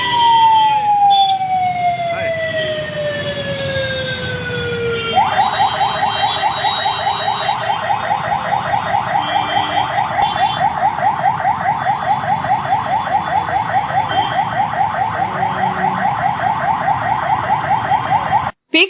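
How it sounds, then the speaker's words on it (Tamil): An ambulance siren stuck in a peak-hour traffic jam wails loud and close, first a sweeping tone that falls, then a rapid steady yelp that keeps repeating without a break. "வாகன நெரிசலில் ஆம்புலன்ஸும் சிக்கிக் கொண்டது."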